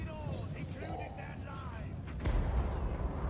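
Cannon artillery in Total War: Warhammer thuds and booms in a dense, rumbling bombardment, with a heavier impact about two-thirds of the way through, while faint battle noise rolls beneath.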